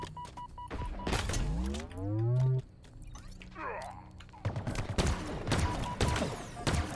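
Turret gunfire in Halo Infinite on legendary difficulty, heard as busy bursts of game shots among whooshing and mechanical effects, with a voice talking over parts of it.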